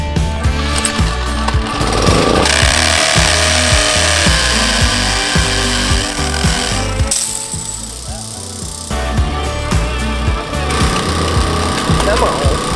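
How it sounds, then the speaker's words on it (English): A hammer drill run off a generator bores holes, giving a loud, steady grinding drone that cuts out briefly partway through and then resumes. "We're hoping the generator will drill these holes."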